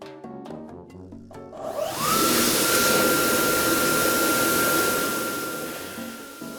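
Music plays softly, then a loud broadband rush of air from an automatic hand dryer kicks in and holds steady, with a faint whine riding on top.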